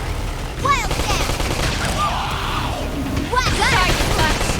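Rapid bursts of gunfire in a Xenoblade Chronicles X battle sound steadily throughout, loud and dense, while voices shout over the shooting.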